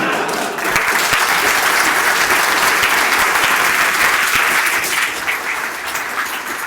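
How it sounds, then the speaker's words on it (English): A conference audience at linux.conf.au 2014 claps steadily in a dense, sustained round of applause that fills the room and tapers slightly near the end, with no voices standing out. "Can I get one more round of applause for Matthew Garrett and Matthew Garrett?"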